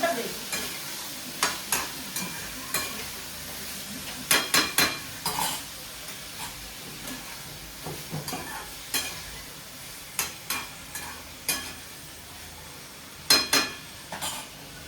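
Tomato and onion sautéing for a dum aloo gravy, a soft low sizzle under repeated spatula scrapes and light clinks against the pan, coming in irregular strokes, no talking.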